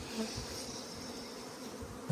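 A steady buzzing drone of many honeybees flying out of a hive, continuous and fairly faint, like a swarm hovering nearby.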